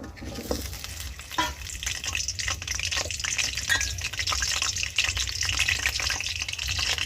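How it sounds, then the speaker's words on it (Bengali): Chopped potatoes hit hot oil in a pan and fry with a steady, close sizzle and crackle, with light stirring scrapes running throughout. "তেলটা আমার ভালো করে গরম হয়ে গিয়েছে এবার আমি অল্প আলু কুচিয়ে নিয়েছি সেটা দিয়ে দেব"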